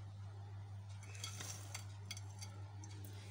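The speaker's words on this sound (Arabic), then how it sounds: "انزل بيه كده على كريم شانتي وابتدي اقلبهم مع بعض" Oreo biscuits being stirred into whipped cream in a bowl, giving soft, faint scraping and light clinks of a utensil over a steady low hum.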